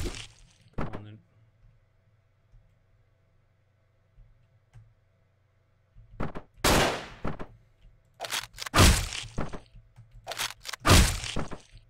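Gunfire in the top-down video game Hotline Miami 2: Wrong Number comes as bursts of sharp, loud shots separated by near-silent gaps, with rapid clusters toward the end.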